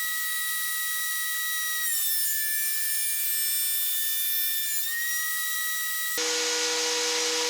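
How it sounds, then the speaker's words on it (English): Steady high-pitched whine of a power tool cutting a 1/4 inch taper along a wooden headless guitar neck blank, holding a constant tone with a pitch shift midway and a harsher, noisier cutting sound near the end. "we cut the 1/8 inch taper on one side, now the 1/4 inch taper on the other"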